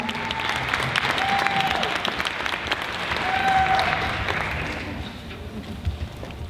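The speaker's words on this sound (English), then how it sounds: "Give them another round of applause." An audience at the Miss Plano & Frisco 2014 pageant gives a round of applause: loud, full clapping that swells near the middle and then thins out toward the end.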